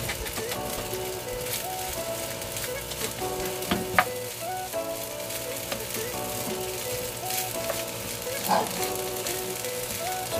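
Salted egg fried rice is stirred in a hot pan, a continuous sizzle broken by occasional scraping and clinks of the utensil, while background music plays throughout.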